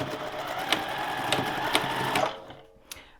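A sewing machine runs close by in a steady rapid whir while stitching back and forth on a tutu anklet, with a few clicks along the way, then it stops and a single tap follows.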